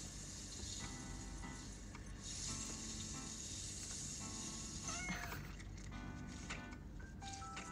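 A cat meows several times in the Cats and Soup mobile game, short bright calls over a soft, steady game background with chimes, fairly faint and without talk.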